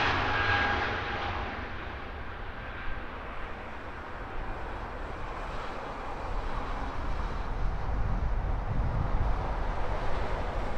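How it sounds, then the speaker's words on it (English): British Airways airliners taxiing toward runway 27R at Heathrow Airport: a steady, fairly distant jet engine rumble with broadband roar and some wind noise, rising slightly toward the end, with no one talking. "A couple of British Airways making their way towards runway 27 right."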